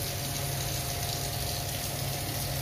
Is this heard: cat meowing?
no